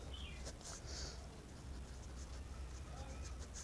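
Pen scratching on paper while a maths problem is worked out, soft quiet strokes and short scribbles close by over a faint low background hum, with no talk.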